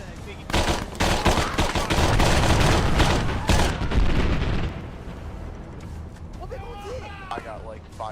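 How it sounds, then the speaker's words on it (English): Video game battle in a ruined, abandoned building, with dense, loud gunfire and artillery blasts pounding for several seconds. The bursts then fade into quieter sporadic shots while a voice talks over the tail. "Artillery coming in."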